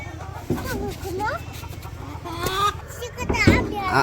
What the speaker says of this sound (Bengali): আমার এই ডাকটা শুনলে খুব ভালো লাগে, মুরগি খুব সুন্দর ডাকে